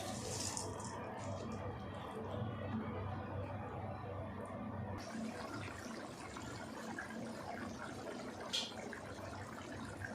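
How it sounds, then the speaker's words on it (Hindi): Rice poured into a pot of boiling water while making Punjabi chicken yakhni pulao, giving a steady bubbling, watery wash that stays level throughout, with a brief brighter splash near the end. "ये अब मैं इसमें चावल ऐड कर देती हूँ।"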